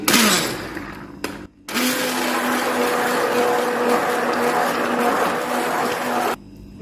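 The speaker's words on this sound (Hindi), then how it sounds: "अब हैंड ब्लेंडर की मदद से इसको मैंने अच्छी तरह से मिक्स कर लेना है" A hand blender whirs loudly and steadily mixing a summer drink, with one brief cutoff before it starts up again and runs until it stops near the end.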